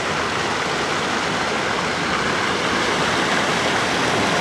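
Steady rushing water flows continuously, a broad, full hiss like a nearby stream or small waterfall, with no voices over it.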